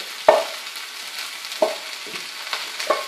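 Already cooked rice folded into a hot pan for fried rice, a faint sizzle under several distinct scraping knocks of the utensil spaced across the moment.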